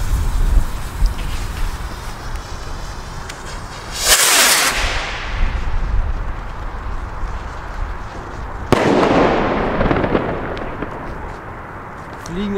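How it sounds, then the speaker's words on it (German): A Funke Aquarius comet-shower firework rocket goes off outdoors in two loud, booming bursts several seconds apart, each followed by a fading crackling hiss, over a constant rumble of background noise. "Jetzt kommt die Aquarius-Rakete."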